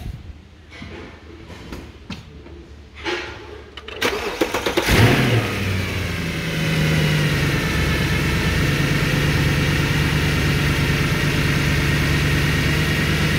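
A 2013 Mercedes C63 with 171k km, just after an oil change, cranks and fires into a loud cold-start roar, then settles into a steady, close idle.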